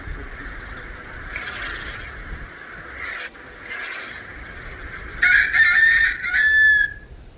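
A rooster crows back at a rooster call played on a phone. Fainter, muffled crowing comes first, then a loud, close burst of crowing near the end.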